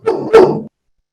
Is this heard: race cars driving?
no